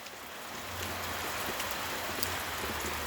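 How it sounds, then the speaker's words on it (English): Steady rain falls outdoors at a plant nursery during the rainy season, a dense even patter on surfaces with no talking. "A little more rain before we turn you out."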